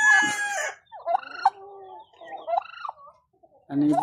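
Turkeys gobble and chickens cluck nearby in a backyard farm, in several separate bursts, with short quiet gaps between the calls.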